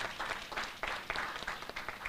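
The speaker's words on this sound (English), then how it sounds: "Ladies and gentlemen, a round of applause for everyone" Audience applause for finalists at a secondary school competition prizegiving ceremony, individual claps distinct within a moderate crowd, fairly quiet and even.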